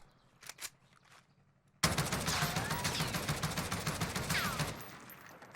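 A stock Oden rifle with a 20-round magazine firing in Warzone, a few faint shots then a loud rapid burst of automatic fire lasting about three seconds before cutting off.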